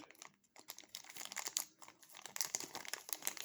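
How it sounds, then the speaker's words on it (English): A coin is pulled from a thin plastic bag, giving close, busy crinkling and rustling that crackles on and off, quiet and without speech. "Take it right out of the plastic bag."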